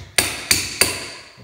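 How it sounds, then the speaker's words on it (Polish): A rubber mallet taps the wedges of a tile leveling system three times in quick succession: sharp, close knocks about a third of a second apart, each fading quickly. "użyć po prostu młotka gumowego i też"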